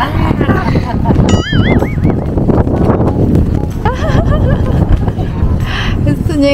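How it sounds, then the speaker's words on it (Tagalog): Strong wind roars steadily across the mic at a beach at low tide, a loud continuous rush with whistling tones drifting through it. "Malakas kasi hangin."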